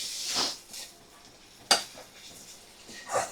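Chicken pieces stirred with spices in a pan, giving a few scattered scraping clinks and soft rustles at low volume with no talking.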